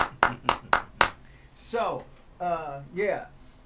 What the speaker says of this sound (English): I'm going to get the claps